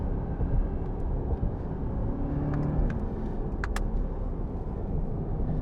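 A 2024 Corvette E-Ray accelerating hard along a rough-surfaced road, heard from inside as a dense, steady low rumble of engine and road noise with a few faint ticks, continuous and close.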